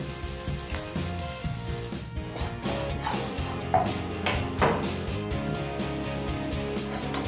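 Butter and flour sizzle in a pan as a roux is started for beef stroganoff sauce, a soft steady crackle with occasional clinks of utensils, close but moderate beneath background music.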